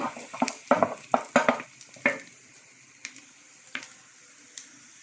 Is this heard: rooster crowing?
no